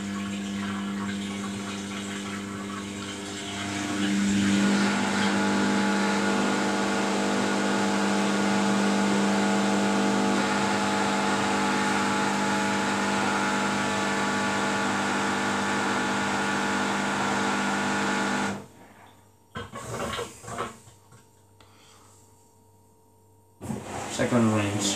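Samsung WF80F5E0W4W washing machine in service mode, a loud steady whir of the spinning motor and water that runs for most of the stretch, then stops abruptly, followed by uneven clunks and a restart.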